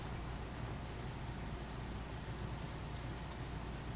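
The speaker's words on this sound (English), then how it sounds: "You get to listen to the rain the whole time." Rain in the Stardew Valley video game: a steady, even hiss of falling rain that fills the whole stretch without pause or variation, with no talk or music over it.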